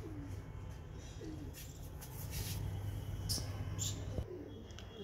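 Soft, low pigeon coos repeat steadily against a faint background, with a few brief higher chirps from other birds scattered through.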